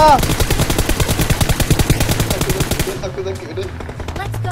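Rapid bursts of automatic gunfire rattle loudly in a first-person shooter game, dense and rhythmic for about three seconds before easing into scattered shots, with a voice talking over it.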